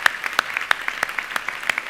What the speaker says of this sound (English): let's give a round of applause for those sponsors.